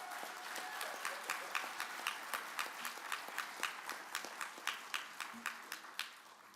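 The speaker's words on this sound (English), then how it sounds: "Another round of applause for them all." An audience at a disabilities summit claps in a steady rhythmic beat, about three claps a second, faint and distant and evenly paced throughout.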